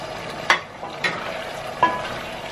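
Potatoes and carrots being stirred in a frying pan while cooking pork giniling, a soft sizzle underneath three sharp scrapes and clinks of the utensil against the pan.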